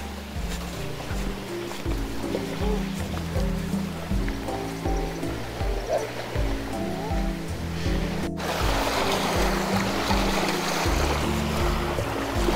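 Steady rush of waves washing against the shore of Turawa Lake in Poland, continuous and fairly loud, with a low rumbling undertone throughout.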